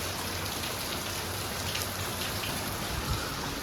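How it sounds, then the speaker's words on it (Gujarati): Steady rain falls on the first day of the Shravan monsoon month, a dense, even hiss of drops striking surfaces without letup and without any talking. "હજી જો વરસાદ પાછો ચાલુ થઈ ગયો છે."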